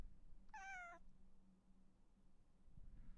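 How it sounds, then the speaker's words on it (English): A pet cat sitting on a chair gives a single rising meow lasting about half a second, close and clear in an otherwise quiet room with a faint low hum. "That is a cat on my chair."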